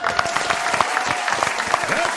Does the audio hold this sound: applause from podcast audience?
yes